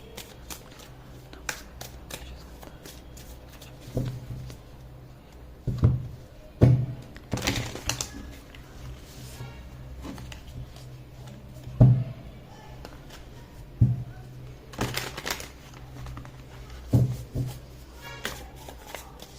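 Tarot cards shuffled and tapped in bursts, close and soft, with sharp snapping slaps between quieter rustles.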